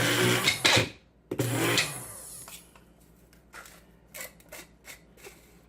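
A blender pulses sugar in two quick loud bursts, each a short whirring roar that cuts off abruptly, followed by quieter handling clicks and taps.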